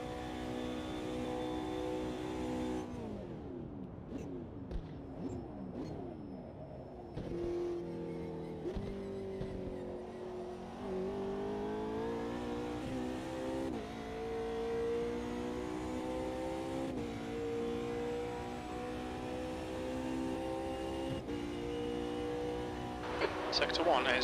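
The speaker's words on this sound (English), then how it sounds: "I could hear your engine coming a mile off" In the sim racing game Automobilista 2, a race car engine revs and climbs through gear shifts, rising and dropping in pitch as it accelerates, loud and continuous with a voice talking over it.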